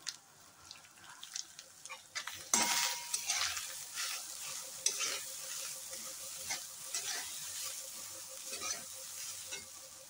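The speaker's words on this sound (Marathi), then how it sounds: "आता या वाटीने हे 2 वाटी खोबरं घालायचं आहे. हे सगळं बारीक गॅसवर भाजायचं आहे." Grated coconut and dry fruits roast in a pan over a low gas flame, with a soft continuous sizzle and scraping stirring that jumps louder after a sharp clatter partway through.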